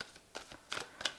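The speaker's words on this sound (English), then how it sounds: "I'm just going to draw some cards" Tarot cards being shuffled and drawn: a few quick, soft riffling bursts, close and quiet, in a short sequence.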